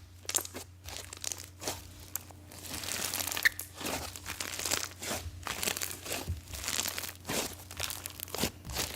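Crispy slime is squeezed and stretched up close, giving dense crackling, crunchy pops and crinkling bursts in an irregular rhythm, steady and moderately loud with no talking.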